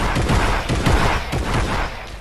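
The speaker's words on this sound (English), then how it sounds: "Oh, I'm getting shot at." Incoming gunfire in a video game, a loud, close barrage of rapid rattling shots blending into a continuous roar for about two seconds.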